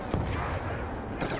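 Gunfire in the video game Call of Duty Black Ops 2 Zombies: a continuous, dense wash of shots with a sharper burst near the start and another near the end, loud and steady throughout.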